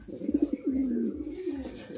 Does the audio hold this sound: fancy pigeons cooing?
yes